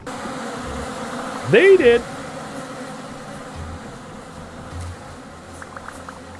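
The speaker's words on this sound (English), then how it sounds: "Wow, those bees didn't even care." Bees buzz as a constant low droning hum in the Vintage Story video game, with someone briefly speaking over it.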